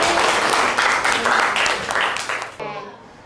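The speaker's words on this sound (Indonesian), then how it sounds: "Oke, kasih aplaus untuk kelompok ini." Students in a classroom applaud a student group with brisk, dense clapping that runs steadily and then stops abruptly near the end, leaving a quiet room with faint voices.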